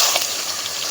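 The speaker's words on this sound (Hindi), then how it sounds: "अब मैं इसमें डालूँगी थोड़ा पानी" Water goes into a hot cooking pot of mutton, chickpeas and potatoes, making a brief, loud rushing hiss close by.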